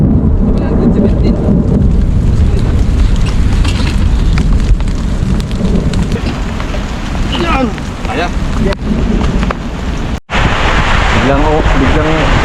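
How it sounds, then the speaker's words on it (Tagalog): Sudden heavy rain and gusting wind roar loudly and steadily throughout on a crop farm, with occasional shouted voices over the downpour. "Biglang ulan mga buddy, sa lakas oh. Lasin yung hangin."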